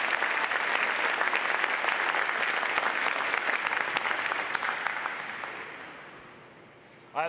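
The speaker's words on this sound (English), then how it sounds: "how about another round of applause for our award recipients?" A crowd at a U.S. Navy recruit training graduation gives award recipients a dense, loud round of applause that holds steady, then fades away toward the end before a voice cuts in.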